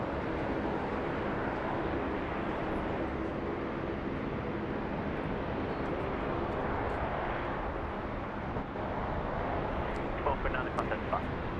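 A Rex regional airliner takes off from runway 16 right at Sydney Airport, a steady, broad engine roar at moderate distance, with brief faint clicks near the end.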